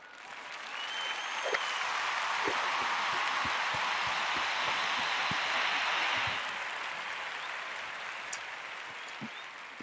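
Steady dense clapping runs for about six seconds at close range, then thins to a softer patter with a few sharp isolated claps near the end; no talking.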